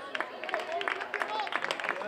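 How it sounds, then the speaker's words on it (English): A crowd at a high school baseball game applauds in scattered claps as a player leaves the field, heard under a steady announcer's voice. "Nice round of applause for C.J. as he exits the field"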